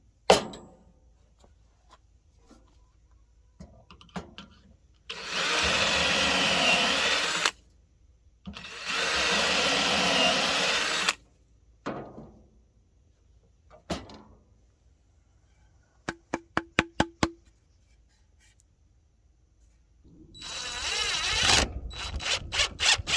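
Cordless power drill driving screws into wood for a raised garden bed: two loud, sustained whirring bursts of a few seconds each, then a quick series of short trigger pulses and a final longer run, with clattering handling sounds between.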